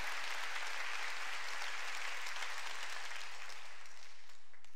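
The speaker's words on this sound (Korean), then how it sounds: "깨달은 사람만 박수" A church congregation at a Wednesday worship service bursts into steady, dense applause that holds for several seconds before tapering off.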